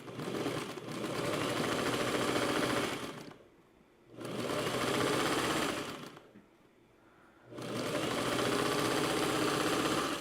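A sewing machine stitching a quilt runs in long steady whirring bursts, stopping twice for about a second before starting again, close and clear with no voices.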